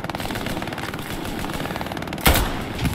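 Sustained rapid machine gun fire in the World War II shooter game Hell Let Loose, a dense continuous rattle of shots with a louder burst near the end, no voices.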